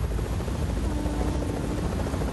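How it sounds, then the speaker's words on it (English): A helicopter in the video game Fortnite gives a steady, loud rotor drone with a constant throbbing hum, heard alone and close throughout. "You guys, I'm not hopping on the chopper, dudes."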